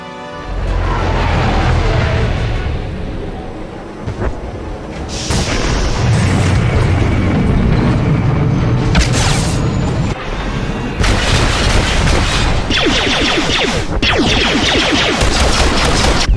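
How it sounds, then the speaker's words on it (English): Heavy enemy artillery fire in SWTOR (Star Wars: The Old Republic), with loud booming blasts and rolling gunfire volleys coming in repeated waves across a sustained, intense battle. "Enemy artillery incoming!"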